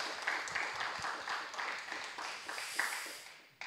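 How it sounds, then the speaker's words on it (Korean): A church gathering applauds in a continuous patter of clapping from a room of people, moderately loud and fading at the end. "저 형만 오빠에게 한 번 더 박수를 보내주세요."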